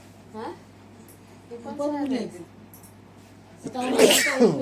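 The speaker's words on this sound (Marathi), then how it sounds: "यावरून शिंका पण यायला लागले" A person sneezes loudly at close range after a couple of softer breathy build-up sounds, with quiet room tone between them.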